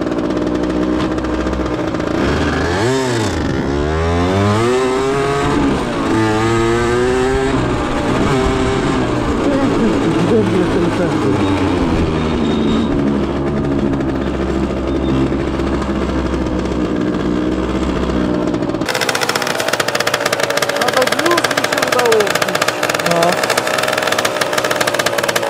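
A Derbi Senda motorcycle engine cranks and catches on the first try, revving up and down before settling into a loud, steady running rumble close by.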